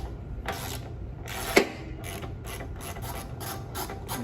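Ratchet wrench turning 10 mm bolts on the carburetor of a Honda HRR2169VKA lawnmower, giving evenly spaced, fairly quiet clicks with one sharper knock near the start.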